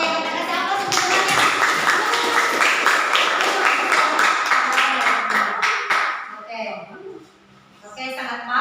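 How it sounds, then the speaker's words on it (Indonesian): A school class applauding a classmate after a physics group presentation, steady close clapping from many hands for about six seconds, then fading as a teacher's voice takes over. "kita kasih aplaus untuk temannya"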